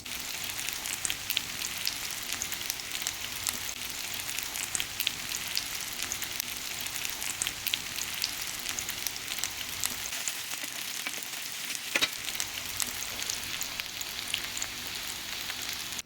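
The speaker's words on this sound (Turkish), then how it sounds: "Köftelerimi de patlıcanlarımı kızarttığım aynı tavayla kızartacağım." Köfte meatballs frying in a pan, a steady soft sizzle and crackle that runs unbroken, fairly quiet and close with no voices.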